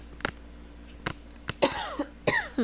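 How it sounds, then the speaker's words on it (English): A person with a tickle in the throat coughs close up in a quick series of about five or six sharp, dry bursts spread over a couple of seconds, with no talking. "Why do I keep coughing?"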